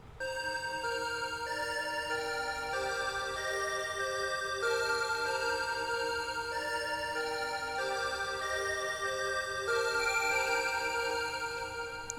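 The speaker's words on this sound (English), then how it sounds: "This is a sound I use a lot in Omnisphere. It's called Love Triangles." Omnisphere's Love Triangles synth patch plays a bright, bell-like counter melody of sustained, shimmering tones moving in a slow repeating line, steady and alone.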